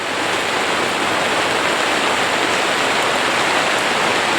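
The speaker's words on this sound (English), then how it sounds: "Little hail don't hurt nobody." Hail pelts down during an autumn elk bowhunting trip in the Colorado mountains, a dense, steady hiss-roar of countless small stones hitting the ground and gear, loud and unbroken throughout with no voices.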